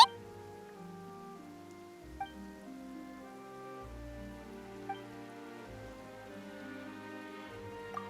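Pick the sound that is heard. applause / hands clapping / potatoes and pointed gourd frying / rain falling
rain falling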